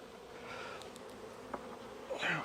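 Honeybees buzz around a strong hive that has been broken down, a steady low insect drone with a few louder passes close by and a brief bright rustle near the end.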